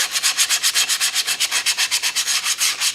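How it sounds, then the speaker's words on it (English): Rapid, rhythmic back-and-forth scraping of 80-grit sandpaper by hand on an electric guitar's wooden body, about six strokes per second, close and steady with no talking. "one thing about sanding wood versus metal, it actually goes really, really quick"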